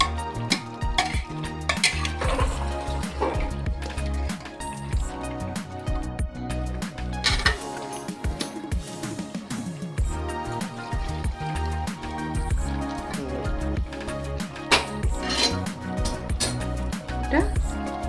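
Chicken and cauliflower are stir-fried together in a pan, with constant rhythmic scraping and clinking of a spatula against the metal over a soft sizzle while a person talks throughout.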